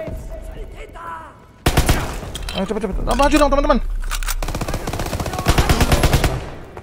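Rapid automatic gunfire bursts and single shots from a Call of Duty: WWII match, loud and dense, continuing almost nonstop after a quieter opening, with a player talking over the shooting.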